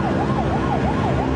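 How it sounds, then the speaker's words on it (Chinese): A police car siren wails in a fast repeating up-and-down pattern as it arrives on a street where modified motorcycles were revving, loud and close over road noise. "警方鸣笛到场"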